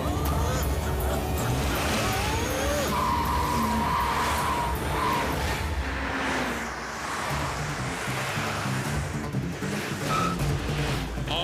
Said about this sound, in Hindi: मोटू पतलू ने एक गाड़ी को ओवरटेक किया, दूसरी गाड़ी को ओवरटेक किया और तीसरी गाड़ी को भी ओवरटेक कर लिया।